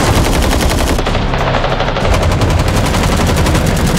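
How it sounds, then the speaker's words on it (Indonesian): Sustained machine gun fire rattles from pursuing cars shooting at contestants' cars in a film action scene, a loud, rapid, continuous stream of shots that runs without a break. "Tidak lama, muncul mobil pemburu kemudian menembaki mobil peserta."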